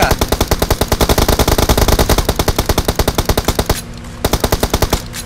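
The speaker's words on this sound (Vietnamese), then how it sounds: "Giờ anh em bắn súng rồi." Automatic gunfire in PUBG Mobile: loud, rapid bursts of shots rattle close by, then a brief pause before another quick burst resumes.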